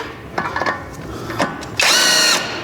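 Impact wrench working on a sway bar end link nut of a Ford Crown Victoria, a few short taps and clicks followed by one loud buzzing burst of about half a second, close up.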